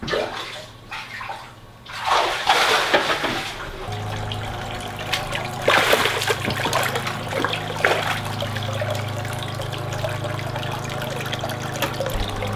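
Water splashes and trickles steadily as pet bass are moved into a homemade livewell tank, with a continuous running-water wash, a few sharper splashes and a low hum underneath.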